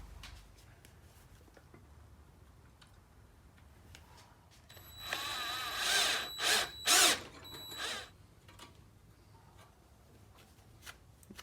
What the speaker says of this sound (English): we're gonna start it with the drill